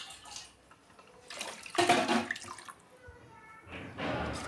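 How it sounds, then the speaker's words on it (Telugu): Water is poured into a pot of rice for egg biryani, a broad splashing rush that swells in the middle and tapers off, with a voice speaking faintly at times. "ఇప్పుడు ఇందులో వాటరు 2 గ్లాసెస్కి 4 గ్లాసెస్ వాటర్ని యాడ్ చేయాలండి"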